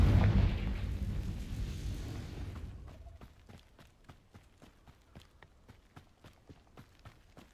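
A Confringo fire spell blast in Hogwarts Legacy, a loud, dense rumbling explosion that fades over about three seconds into a quiet stretch of regular, soft footsteps.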